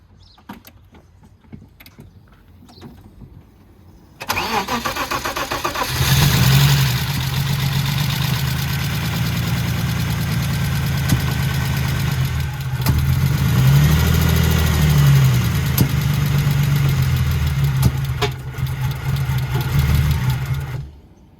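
Turbocharged BMW E36 fitted with an Audi R8 ignition system cranks briefly, catches, then settles into a loud, steady, close idle with a slight rise in revs near the middle.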